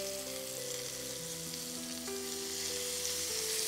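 Paneer shashlik sizzles in a pan over a high flame, a steady hissing fry heard alone, with faint tonal hum in the background.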